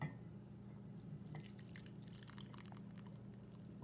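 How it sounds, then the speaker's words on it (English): Hot milk is poured over a hot chocolate bomb in a mug, giving a faint, steady trickle with scattered drips and splashes against a constant low hum, with no voices. "I have some really hot milk here that we're going to pour over the top."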